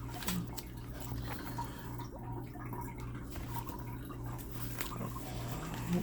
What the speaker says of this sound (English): For my cat's automatic water bowl thing